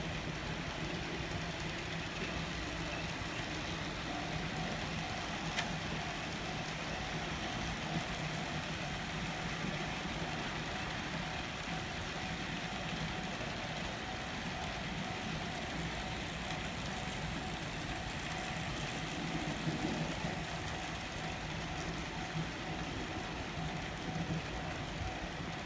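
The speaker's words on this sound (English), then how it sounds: "now it's time to run some trains" A continuous rumbling clatter of a model train running along its track, steady and unbroken, with no voices.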